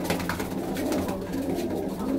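Pigeons coo in low, throaty murmurs throughout, close and continuous, with faint background clatter.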